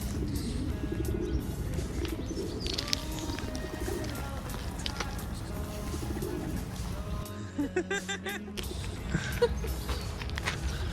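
Pigeons coo softly by a park pond where swans and ducks gather, low repeated calls under a steady outdoor ambience with faint chirps and footsteps.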